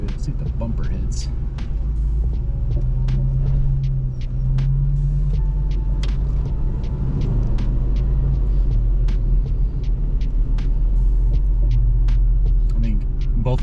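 An off-road overland vehicle crawls on a rough mountain trail in low first gear, its engine giving a steady deep rumble and hum throughout, with scattered clicks and knocks and people talking over it.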